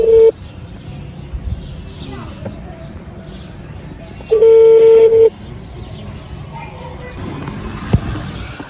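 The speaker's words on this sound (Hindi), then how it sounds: "अब भाई चार्ली को फोन करते हैं" An unanswered phone call rings out as a steady electronic ringback tone, one brief burst at the start and a longer ring later, heard over room noise and movement.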